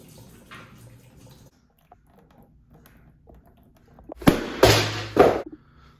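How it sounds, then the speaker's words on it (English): Coolant gushes from a DRZ400SM motorcycle radiator once the cap comes off, heard as a sudden loud splashing pour in a few surges after quiet handling noises. "Whoa, a lot of coolant."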